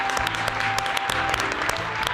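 Steady applause from a group of people, dense and continuous with scattered sharper claps throughout, with music playing underneath.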